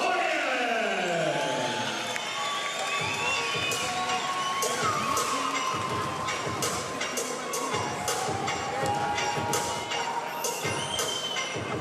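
Crowd cheering and whooping in a kickboxing arena as heavyweight fighter Fabrice Aurieng enters the ring at Nuit des Champions, a sustained roar of many voices with shouts and a ringing announcer tone over it.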